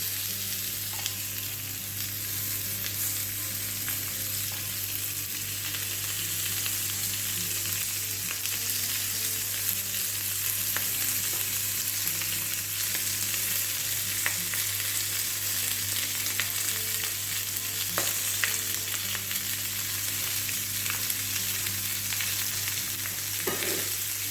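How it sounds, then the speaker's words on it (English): Lamb chops frying skin side down in a hot pan, the fat rendering with a steady, even sizzle and occasional crackles and pops, heard up close without any talk. "I'm just going to place these into the pan skin side down first, just to try and render down some of the fat and make it go crispy."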